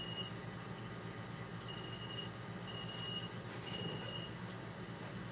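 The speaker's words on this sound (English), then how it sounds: "smoke detector's going off" A smoke detector goes off in a home, sounding a few short high-pitched beeps spaced about a second apart, faint and distant under a steady low background hum.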